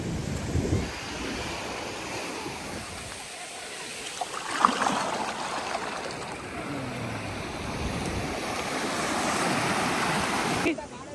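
Sea waves washing up on a beach, a broad continuous rush of surf with wind buffeting the microphone and a swell that builds midway, moderately loud with no clear talk.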